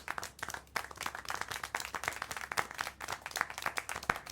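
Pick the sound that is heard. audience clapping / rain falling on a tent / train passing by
audience clapping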